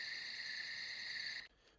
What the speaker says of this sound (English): we have crickets